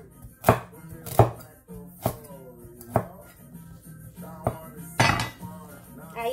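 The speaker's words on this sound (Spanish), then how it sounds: "vamos a cortar ahora la zanahoria" A knife chops a carrot on a board in six sharp, distinct strikes spaced roughly every second, close and clear against a quiet background with faint music.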